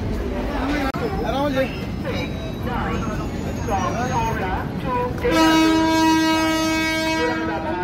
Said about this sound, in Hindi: कोलकाता की ट्रेन यहाँ पे दिखाते हैं भाई